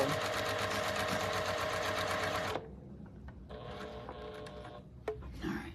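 A sewing machine stitches a pillowcase in a loud, fast, steady whir before stopping abruptly, followed by a shorter, quieter burst of stitching and a few clicks, close by with no talking.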